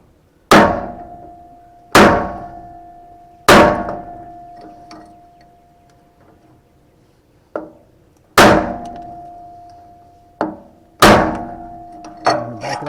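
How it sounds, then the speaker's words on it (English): A mini sledgehammer drives a bearing onto a trailer hub, striking metal in sharp, ringing blows about every one to three seconds, each leaving a decaying metallic ring; the strikes are loud and close, with no talk. "So now I get out the little mini sledge"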